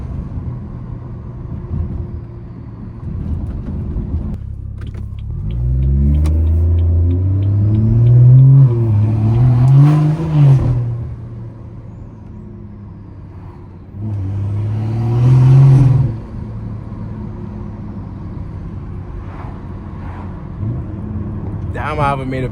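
A BMW 340i engine swells in two loud revving bursts, one near six to eleven seconds and another around fifteen seconds, rising in pitch with a deep rumble beneath, while a steady lower drone fills the gaps.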